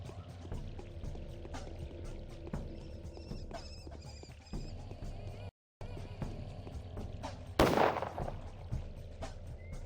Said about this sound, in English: why are we shooting?